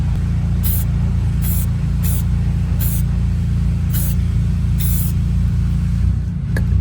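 Six short hissing bursts from a spray can lay a second coat of paint on a truck wheel, evenly spaced about a second apart, each brief and sharp over a loud constant rumble.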